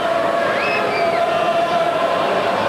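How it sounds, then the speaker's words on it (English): Crowd of about 2,000 at a 1995 Rugby World Cup match between Scotland and Ivory Coast, a constant distant hubbub of voices with faint whistles and cheers rising above it. "The constant hubbub in the crowd, it really has been the most wonderful atmosphere"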